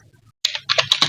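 A short run of computer keyboard typing while Python input code is written: a brief pause, then about five crisp, close keystrokes in quick succession, heard alone.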